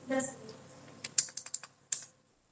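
Keys on a computer keyboard clack while data goes into Tally accounting software, a quick burst of separate taps followed by one last press, close and fairly quiet.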